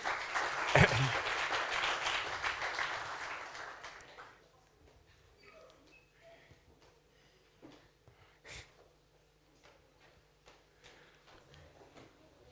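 An audience applauds at an award ceremony for a video contest, dense clapping that fades out after about four seconds, followed by scattered faint clicks and room noise.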